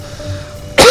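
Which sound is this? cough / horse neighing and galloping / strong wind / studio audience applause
cough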